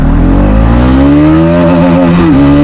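A Bajaj Pulsar NS200 motorcycle engine revs loud and close as it accelerates in first gear, its pitch climbing steadily in one continuous roar with no talking.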